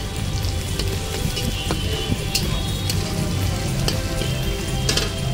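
Onion fries in hot oil in a pan, a loud, steady crackling sizzle running throughout with small pops and occasional light scrapes.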